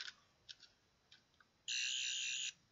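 Toy sonic screwdriver, battery powered, giving a few faint chirps and clicks and then a steady high electronic whine lasting about a second, quiet against a low background.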